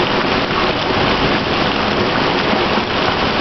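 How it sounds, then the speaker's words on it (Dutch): Heavy rain of the rainy season in Cajamarca, Peru, pours down in a dense, loud, unbroken hiss of drops striking surfaces, with no voices. "Zoals het normaal gesproken in de regentijd regent."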